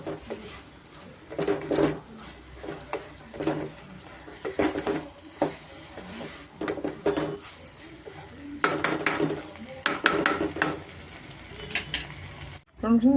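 Rice being stirred into masala in a pan over medium flame, with repeated scraping clinks of a utensil against the metal in irregular bursts, close by, while a person talks throughout.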